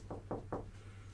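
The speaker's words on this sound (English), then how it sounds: "दस्तक देना. knock," Three evenly spaced knocks on a door or wooden surface, close and fairly soft, with a low hum underneath.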